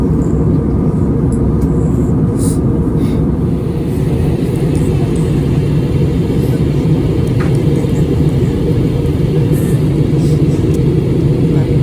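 Loud, steady cabin roar of an airliner in flight on a trip back to the Philippines, a constant broadband rumble and whoosh throughout, with faint brief clinks and no clear talking.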